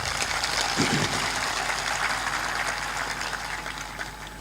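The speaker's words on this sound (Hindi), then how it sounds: "ताली बजाकर अभिनंदन करो।" Audience at a spiritual discourse clapping to welcome guests from Kolkata, a steady dense wash of applause from a crowd that fades slightly toward the end.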